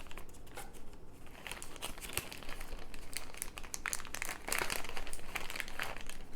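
A plastic package of IKEA Variera plugs, cut open at the top, is handled close by, giving continuous crinkling and rustling with brief sharper crackles that grow louder near the end.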